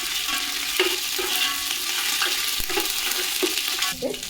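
Mutton pieces fry in hot oil for yakhni pulao, a steady close sizzle broken by repeated stirring scrapes and clinks of the spoon against the pot.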